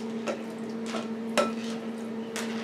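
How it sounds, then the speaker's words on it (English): Diced onions and tomatoes drop into a bowl in a few separate soft clattering thumps, close and fairly quiet over a steady electrical hum. "I'm going to go ahead and throw it in my bowl right here."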